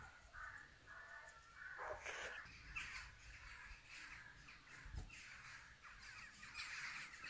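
Many crows cawing repeatedly over each other, a loud, busy chorus of harsh calls with faint background rumble.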